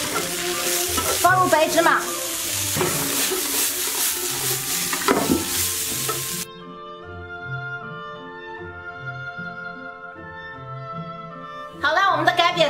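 Green beans dry-fried in a wok with dried chilies and Sichuan peppercorns give a loud, steady sizzle with stirring under a voice, then the cooking gives way to music.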